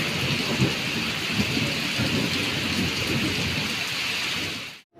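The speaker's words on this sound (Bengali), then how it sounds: "আর বৃষ্টির আওয়াজ, মেঘের গর্জন আশা করি তোমরা শুনতেই পাচ্ছ" Heavy rain pours steadily with deep thunder rumbling underneath, loud and continuous, on a monsoon morning, then cuts off abruptly at the very end.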